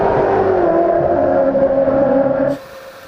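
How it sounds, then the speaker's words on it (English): V8 Ute race cars at the Gold Coast 600 roar steadily past for about two and a half seconds, then the sound cuts down sharply to a fainter background hum. "First racing we saw when we came in the gates was the V8 Utes."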